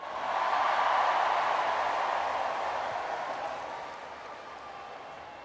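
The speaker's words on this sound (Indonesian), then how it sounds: "Tepuk tangan untuk Menteri Keuangan yang paling keras." A large audience at a National Teachers' Day ceremony in Indonesia applauds the Finance Minister with a dense, sustained wash of clapping that swells quickly, then slowly fades, with no one speaking over it.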